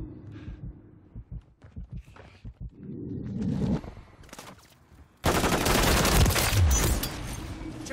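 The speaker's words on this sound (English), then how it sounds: "I'm taking fire! Taking effective fire!" Bursts of automatic gunfire from a Call of Duty Modern Warfare 3 multiplayer match: scattered thumping shots at first, then a loud, dense sustained volley that takes over the second half.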